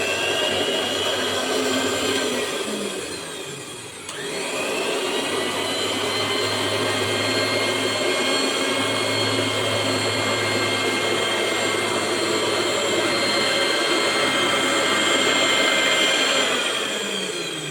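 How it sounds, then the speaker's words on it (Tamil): Electric fabric-cutting machine running steadily as it slices frill fabric for a nightie, a continuous loud motor whine with a brief dip near the four-second mark before resuming, no talking. "நான் கையில் கட் பண்ணுறதில்ல, மிஷின்லேயே கட் பண்ணிக்கிறேன்"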